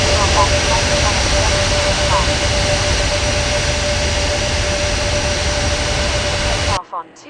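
Jet airliner engines roar steadily during takeoff in an air traffic control game, a loud continuous wash of engine noise that cuts off abruptly near the end.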